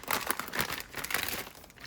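A resealable zipper plastic bag holding bunion pads crinkles and rustles in quick, close bursts of crackling handling noise, with no one speaking.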